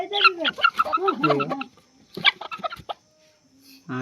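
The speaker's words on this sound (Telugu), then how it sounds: "ఇక్కడైతే మీకు కోడి చూపిస్తాను చూడండి" Close hen clucking in short bursts mixed with harmonic chicken calls, pausing briefly before a few softer clucks resume.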